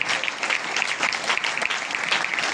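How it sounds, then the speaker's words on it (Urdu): Congregation at a church sermon applauding loudly, a dense, continuous roar of many hands clapping close by with no talk over it. "ذرا زور دی تالیاں بجاؤ"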